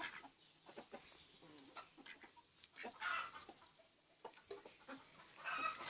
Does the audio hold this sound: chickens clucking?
yes